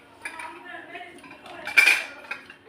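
Cups and saucers from a wedding-gift set are stacked in a home kitchen, giving soft clinks and scrapes of crockery with one brighter ceramic clink near the middle, close by and without talk.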